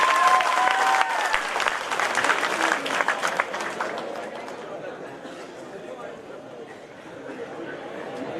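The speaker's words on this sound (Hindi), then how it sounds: "बड़े स्टार के लिए बड़ी आकाश भर तालियां बजाए जानी जी बेड़ा के साथ" Audience applause for the poet Jani Bairagi at a 2019 kavi sammelan in Kushalgarh, a dense crowd clapping that starts loud and steady and then fades into softer scattered clapping and murmuring.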